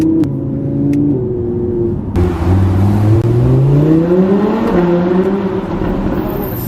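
A 2015 Audi R8 V10 Plus drives along a road, its engine note droning steadily and shifting in pitch as it accelerates and passes, loud and continuous with no talking.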